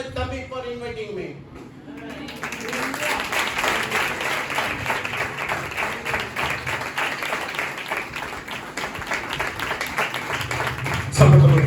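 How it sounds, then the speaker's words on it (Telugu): Audience at a church anniversary service breaking into sustained clapping, a dense, even roar of many hands that follows a brief spoken phrase and runs to the end under a faint voice. "చప్పట్లు"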